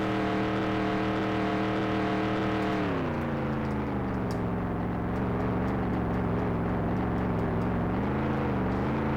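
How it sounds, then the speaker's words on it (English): Race cars in NASCAR 98 at Fontana's California 500: a loud, continuous engine drone with harmonic whine that drops in pitch as revs shift, then holds steady at speed, with no talking. "And there's a whole gaggle of cars behind us."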